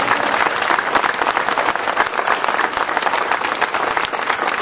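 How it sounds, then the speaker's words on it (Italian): A crowd at a thank-you political rally in Ferla breaks into loud, sustained applause, dense overlapping clapping that holds steady throughout without a break. "grande applauso."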